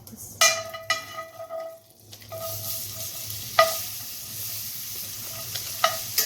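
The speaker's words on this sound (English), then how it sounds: "the salami in here already, so I don't have to add any oil to it. I'm gonna wait till it gets hot" Salami and bacon sizzle in a hot pan without oil, a steady close frying hiss punctuated by several sharp metallic clinks of a utensil against the pan.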